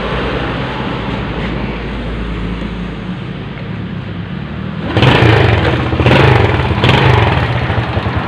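A motorcycle engine runs steadily after repair work for compression loss and a worn chain tensioner, idling with a rough, busy drone, then revving harder in several blips near the end.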